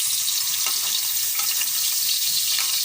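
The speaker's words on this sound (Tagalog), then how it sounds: "Magigisa tayo ng luya." Ginger sautés in a pan for sinigang na bangus with a steady, crackling sizzle. A few faint clinks of stirring come through as the frying carries on close by.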